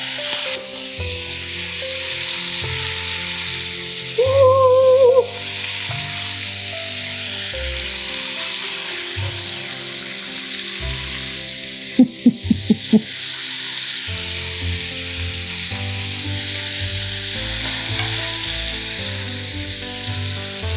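Cabbage and sausage frying together in one pan, a steady sizzle with bursts of stirring and scraping, plus a few sharp utensil clinks midway.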